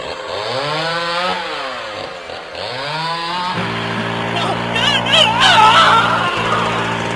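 A chainsaw idles with a steady buzzing drone while revving and grinding noises rise, with a voice heard over it at the start.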